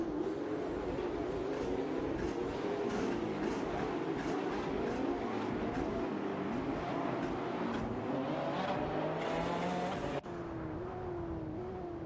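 Race car engines in a racing simulator game at Spa: a continuous loud high-pitched engine drone with rising and falling revs as several cars run together, one pitch sweeping upward across the stretch.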